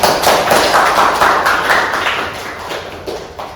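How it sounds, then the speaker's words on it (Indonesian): Applause from an audience of students at a vocational school design lecture, a dense burst of close, loud clapping that slowly thins and fades over a few seconds. "Oke, tepuk tangan teman-teman."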